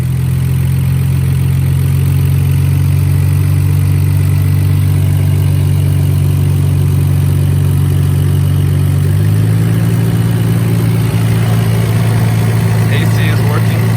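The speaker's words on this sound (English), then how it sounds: "AC is working, as you can hear from the engine idle." A 2001 Nissan Skyline GT-R R34 V-Spec II idles with the air conditioning running, a loud, steady low engine hum that shifts pitch slightly partway through as the idle changes, close to the microphone.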